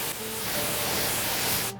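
A spray nozzle mists water over car wheels for a detailing wash, a steady close hiss that runs unbroken for under two seconds and then cuts off abruptly.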